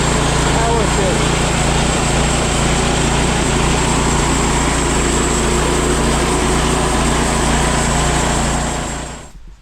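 A homemade band sawmill powered by an auto motor runs with a loud, steady droning engine roar and a high whine on top, constant throughout before cutting off abruptly at the end.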